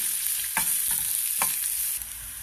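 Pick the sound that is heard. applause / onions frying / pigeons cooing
onions frying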